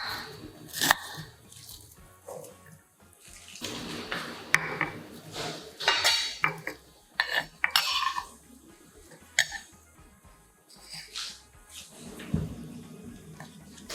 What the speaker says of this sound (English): slice lengthwise a quarter onion